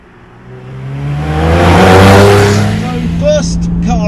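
A 2014–2016 Porsche 991.1 GTS with a naturally aspirated flat-six pulls away loudly, its engine note climbing and swelling through the revs, then easing as it shifts, heard close and alone.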